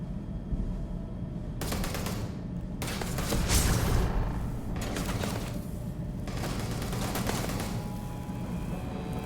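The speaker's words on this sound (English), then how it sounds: "I have no idea what's shooting at me" Video game gunfire from a pirate-themed battle arrives as loud, sustained machine-gun bursts with brief gaps between volleys, heavy and close over a constant rumbling background.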